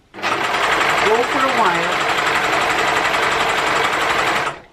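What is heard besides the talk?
serger sewing machine stitching threads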